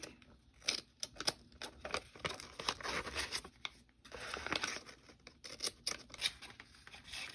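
Scissors cutting paper to make an envelope for a junk journal, quick crisp snips and rustling paper in uneven bursts, close and quiet with no talking.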